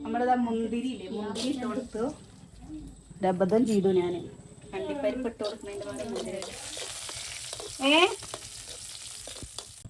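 Raisins and cashews sizzle and fry in a pan, a steady crackling hiss running under women chatting and laughing nearby, with occasional stirring clatter.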